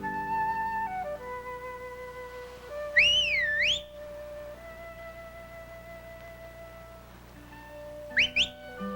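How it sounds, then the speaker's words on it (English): A person whistles outdoors to call over a pronghorn antelope: a rising and falling warbled whistle in the middle, then a short quick whistled pair near the end, over a quiet background with faint tones. "I whistled him over"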